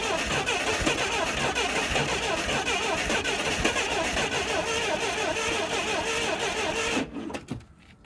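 A forklift engine bought at auction cranks loudly and steadily as it tries to start, a continuous rough churn for about seven seconds before cutting out into a brief rattle.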